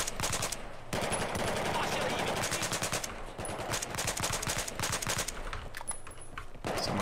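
Machine gun fire in Battlefield 4 on PC, loud sustained rapid bursts that keep going almost without a break, with a few brief pauses and game voice callouts heard over the shooting.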